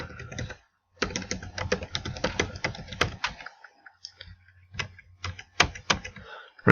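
Keys clatter on a computer keyboard during a SQL query demo for an Oracle database, bursts of fast close typing with short pauses and a few sharper single key strikes.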